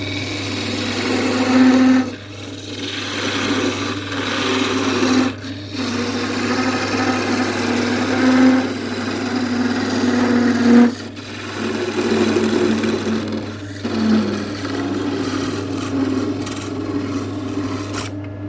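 A woodturning lathe cutting a small festive tree shape with a parting tool: loud, steady whirring and rasping of the tool against spinning wood, broken by several short pauses and shifts in pressure.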